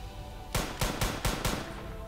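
Five sharp gunshots in quick, uneven succession from a short action film, each a loud, punchy crack over a quiet background.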